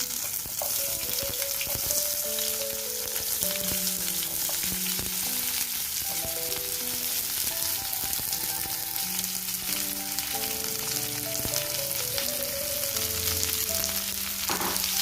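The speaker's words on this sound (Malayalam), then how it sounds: "ഇനി ഞാനിവിടെ ഒരു വലിയ രണ്ട് സവാള അരിഞ്ഞു വെച്ചിട്ടുണ്ട് അത് നമുക്ക് ഇതിലേക്ക് ചേർത്ത് കൊടുക്കാം" Two large sliced onions fry for a drumstick masala curry with a dense, steady sizzle that stays close and even throughout. Music-like tones run under the frying, and nobody speaks.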